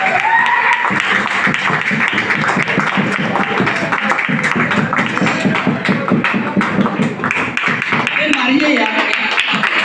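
Audience at a network marketing seminar keeps clapping in a brisk, continuous patter while someone talks loudly over it.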